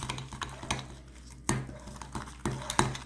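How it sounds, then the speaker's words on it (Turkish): Strained yogurt mixed with mint is stirred in a bowl, a spoon knocking against the sides in irregular close clinks and scrapes over a quiet background. "Yalnız önce bir nane ile güzelce şöyle karıştırıyorum."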